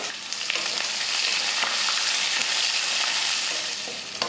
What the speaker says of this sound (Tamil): நல்லா பொன்னிறமாக வறுக்கட்டும்